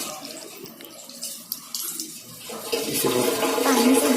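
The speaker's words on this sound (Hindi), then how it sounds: "अच्छे से साफ पानी से हाथों को मलकर धो दें।" Tap water runs steadily into a sink during handwashing, rising louder partway through with splashing as the hands are rubbed under the stream.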